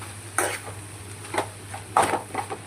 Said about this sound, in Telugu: ఒకసారి కలదిప్పుకోవాలి అటు ఇటు ఒక పేస్ట్ అందులో కలిసేటట్లు కలదిప్పుకోవాలి